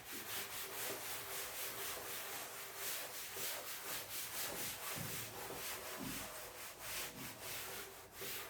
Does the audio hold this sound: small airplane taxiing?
no